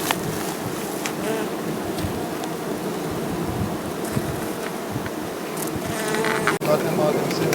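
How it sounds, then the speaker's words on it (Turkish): Honeybees buzz around the hives of an apiary in a dense, continuous drone, close and steady throughout. "Arın içerisindeyim Mustafa amca."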